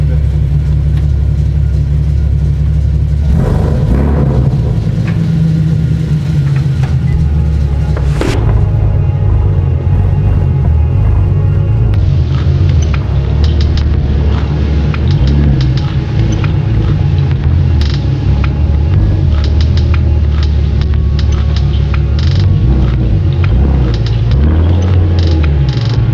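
A Camaro engine rumbles steadily at close range with a loud, continuous low drone, swelling as the throttle opens partway through, mixed with mechanical creaks and some faint talk.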